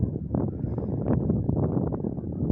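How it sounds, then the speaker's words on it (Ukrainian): Wind buffets the microphone in a steady low rumble, gusting a little louder at moments, near a running wind turbine. "Вітер у нас отакий."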